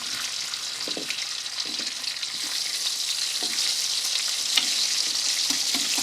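Chili and garlic fry in hot oil in a pan, giving a loud, steady crackling sizzle with occasional stirring scrapes and no talking.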